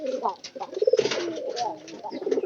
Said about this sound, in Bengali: এই যে আমার ন্যাংরা কবুতরটা